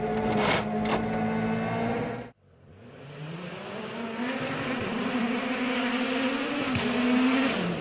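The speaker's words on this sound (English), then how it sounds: "The Bloodhound supersonic car, a jet and rocket car on a wheeled chassis, was demonstrated in public for the first time today" The Bloodhound supersonic jet and rocket car, built on a wheeled chassis, roars steadily during its first public test run. The loud, continuous roar cuts out briefly, then swells back up and holds strong.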